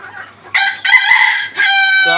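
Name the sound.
Malaysian Serama chicken, smallest breed, crowing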